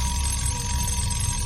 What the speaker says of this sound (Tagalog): Napatili na lang siya sa gulat nang malakas na mag-alarm ang kanyang cellphone.